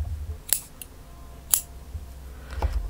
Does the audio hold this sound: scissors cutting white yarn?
yes